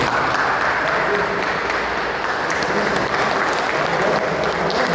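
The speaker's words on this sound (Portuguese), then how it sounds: "dando uma salva de palmas ao nosso" A church congregation applauds in worship, a dense, sustained round of clapping from many hands that stays loud and even for the whole stretch, with a faint crowd murmur underneath.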